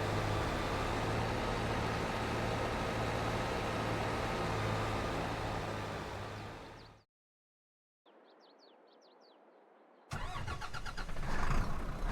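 In Farming Simulator 22, a farm vehicle's engine hums loudly and steadily, then fades out. After a short silence and some faint, thin sounds, another engine starts abruptly with a loud burst and settles into a strong, rough running note.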